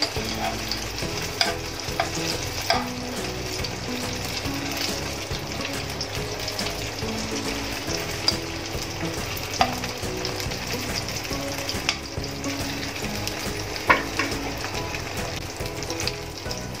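Paneer frying lightly in a pan for paneer chili, a continuous close sizzle with occasional stirring clacks and spatula taps, steady and unbroken, no speech.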